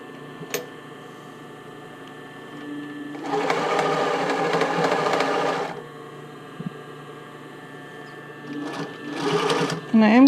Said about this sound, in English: I am going to do another zigzag stitch to hold this down.